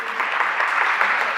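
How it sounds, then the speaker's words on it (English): A meeting audience claps for a newly elected advisory board member, a brief, dense, steady patter of many hands filling the room at moderate volume. "You can clap it up, absolutely."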